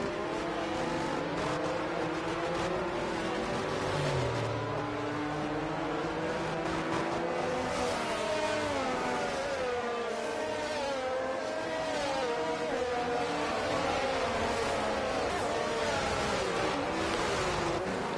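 Race cars in a racing video game accelerating together on a restart, a continuous layered engine roar with rising and falling revs from several cars, loud and unbroken throughout.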